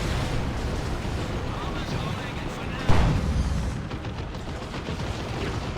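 Rocket launcher fire from a Nob Leader in a Dawn of War 2 battle, a sharp blast bursting out of a dense, rumbling wash of artillery and explosions with a voice talking underneath.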